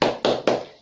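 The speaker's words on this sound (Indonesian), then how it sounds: "Sekarang kita tepuk semangat bersama-sama ya." A fifth-grade primary class claps the rhythmic 'tepuk semangat' together: three crisp, loud, evenly spaced group claps, each ringing briefly before the next.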